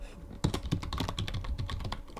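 Computer keyboard typed on in a rapid run of close, crisp keystrokes, a dense uneven patter lasting a couple of seconds without speech.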